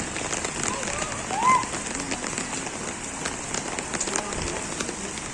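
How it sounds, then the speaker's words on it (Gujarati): Steady light rain in Khambhalia patters evenly throughout, a soft continuous hiss with scattered drips and a faint bird call. "24 કલાક એમનો એક જ ધારો વરસાદ ઝીણો ઝીણો ઝીણો ચાલુ જ છે"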